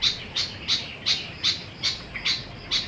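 A bird squawks repeatedly in a steady rhythm, about eight harsh high calls evenly spaced, fairly close, with no one speaking.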